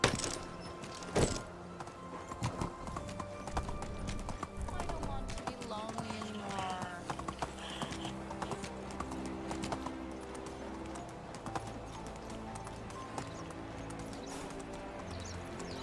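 Horse hooves clip-clopping at a steady riding pace in the Medieval Dynasty video game, a rhythmic, fairly close trot under intermittent spoken commentary.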